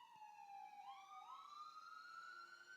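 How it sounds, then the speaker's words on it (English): A police siren passes outside, its faint wail sliding down and climbing again in pitch through smooth sweeping tones, heard at a distance without talk. "Here come the sirens."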